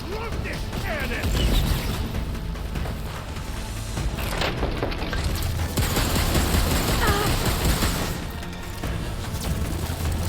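A cannon fires in the video game Horizon, a dense barrage of rapid loud blasts and crashing impacts that runs continuously amid chaotic combat noise.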